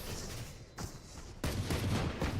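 Gunfire in an esports match of a tactical shooter on the Lotus map, with rapid bursts of shots that get louder and denser toward the end.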